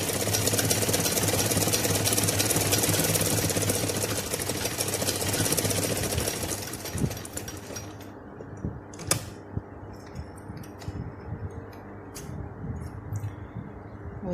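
A sewing machine with a needle problem runs test stitches after a tension dial adjustment, a rapid rattling whir for about seven seconds, then stopping into scattered clicks and handling knocks.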